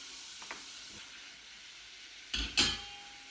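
Sliced onions hit hot oil for caramelising, giving two short, sharp bursts of sizzling hiss near the end after a quiet stretch of faint kitchen background.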